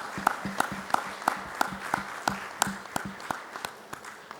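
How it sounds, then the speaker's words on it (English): A hall audience claps for Ravi Kant after his leadership talk: sparse, fairly even claps ring out at a steady rhythm over a low room hum, moderately loud and without a dense roar. "So please give Ravi Kant ji a big round of applause."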